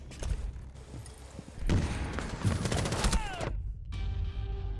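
Gunfire in a tactical shooter video game, a headshot on an enemy found in a hallway: several sharp, loud cracks and thuds over a busy game background, with a burst of clustered shots near the end before a brief drop to quiet.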